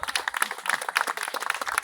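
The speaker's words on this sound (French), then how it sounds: "vous pouvez les applaudir" An audience applauds a local mountain-bike club from Jussy at the inauguration of a labelled MTB trail in the Yonne, France; a short burst of close, dense, irregular clapping from a small crowd.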